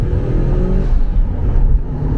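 Mitsubishi EVO 7 engine revving while driving at night in Bangkok, a loud close roar whose pitch climbs and then drops off as the revs ease, with no talk.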